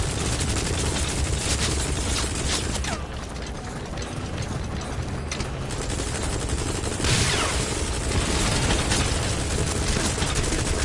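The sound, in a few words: helicopter gunship firing, from video game Metal Gear Solid V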